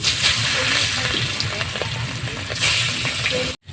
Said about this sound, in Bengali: গরম হয়ে গেছে মাছ ভেজে নিচ্ছি